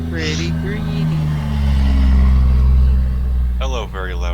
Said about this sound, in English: Hello, very loud vehicle.